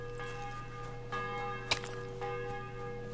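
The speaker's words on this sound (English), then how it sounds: "The bell's ringing for Hans the 5th time." Castle bell ringing in Kingdom Come Deliverance II, steady sustained tolling tones layered over a constant low hum, with one sharp louder strike near the middle.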